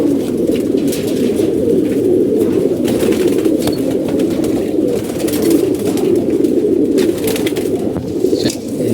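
A flock of pigeons on a rooftop loft in Mirpur, dense overlapping throaty cooing from many birds at once, loud and close, with occasional wing flutters.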